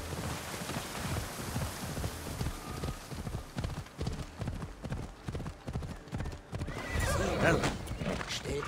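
Hooves clip-clop steadily in a loose rhythm and a horse neighs near the end, all from the video game Assassin's Creed Odyssey, with someone talking over the hoofbeats throughout.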